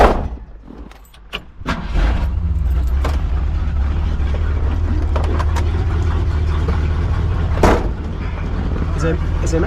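A 1964 Ford Galaxie 500 convertible starts up with a few clunks and rattles, then its engine settles into a steady low rumble as it pulls away, close by, with brief voices early on.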